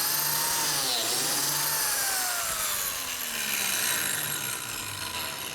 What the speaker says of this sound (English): laying out our biscuit joiner with that same register line and making the same plunge cut